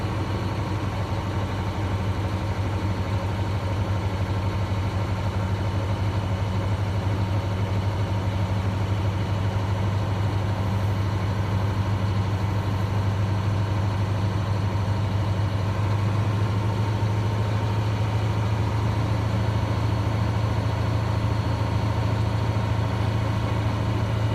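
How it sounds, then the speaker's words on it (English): A truck engine runs steadily and loud throughout a road test, holding raised RPMs with a constant low drone and no speech over it. "I'm going to raise up the RPMs between 10 to 15 to build up the pressure a little bit faster"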